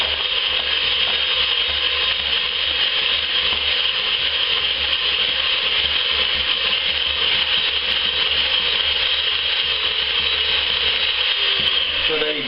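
An electric mixer churns yeast into flour for bread rolls, a constant close motor hum and grinding whir holding level for the whole stretch.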